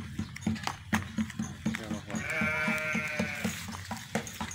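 Garut sheep, a class C animal at a livestock sale, bleat in a drawn-out, wavering call near the middle of the clip, with rhythmic clopping or knocking and background speech around it.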